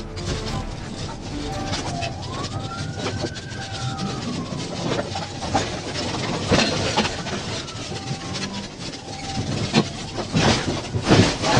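A train rolls through a railroad area, with steady rumbling wagon noise and rhythmic clickety-clack building toward the end, while birds call faintly and occasional squeals rise over the din.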